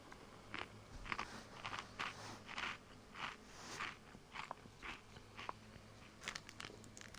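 Someone munches food close to a microphone, with repeated crunchy bites and wet chewing in an irregular rhythm, quiet but intimate.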